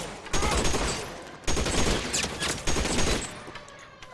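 Bursts of gunfire in the game L.A. Noire come in dense volleys, three loud rattling salvos separated by brief dips, with a voice faintly underneath.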